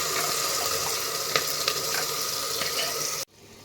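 Ground masala hitting hot oil in a pan with curry leaves for a greens sambar, giving a steady loud sizzle and crackle for about three seconds before it abruptly drops to a quiet hiss.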